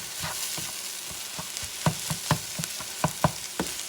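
A spatula cuts and scrambles eggs with cod in a hot frying pan: a rhythmic series of sharp scraping taps over a low constant sizzle, close up and without speech.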